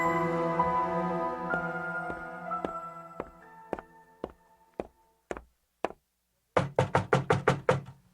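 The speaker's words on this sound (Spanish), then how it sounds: "Llamé repetidamente a la puerta" Knuckles rap repeatedly on a door, a series of sharp, close knocks that come singly with pauses and then in a rapid cluster of six or seven, partly over a fading resonant musical tone at the start.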